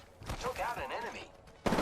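Gunfire in Apex Legends on PS4, a burst of shots with voice chatter under it and a sharp loud crack at the end of the short stretch.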